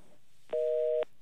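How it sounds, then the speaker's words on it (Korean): A telephone tone sounds once, a steady half-second electronic beep on a phone line during a radio call-in, clear and alone against faint background hiss. "유지의 전화는 받지 않는다"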